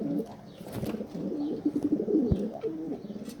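Pigeons coo on a balcony where they are being bred, with soft repeated rolling calls close by, overlapping in low throaty phrases, plus a faint thump and light rustling.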